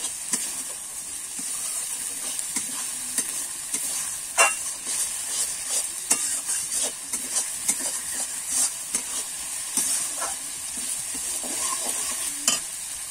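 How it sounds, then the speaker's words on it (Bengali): A watery cumin-coriander spice paste hits chicken frying for a spicy tomato chicken, giving a steady hiss of oil with repeated scraping stirs and soft clacks of the spoon against the pan, close and continuous, with no talking. "শুকনো গুঁড়ো মশলা, সেটাতে কিন্তু আমি জল দিয়ে একটু গুলে নিয়েছি, সেটা দিয়ে দেবো। দিয়ে আমি একটু নেড়ে নেব।"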